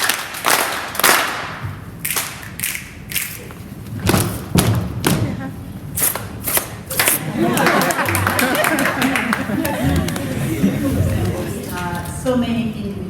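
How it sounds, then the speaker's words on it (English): Audience applause at a workshop, with people clapping for themselves as a group. Loud, dense clapping builds over several seconds into sustained applause. A voice speaks over the start of it. "Can we stand up and clap for ourselves?"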